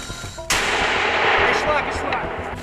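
A single heavy 120 mm artillery blast on a front line hits abruptly, then a long rumbling boom rolls out and fades slowly into the distance.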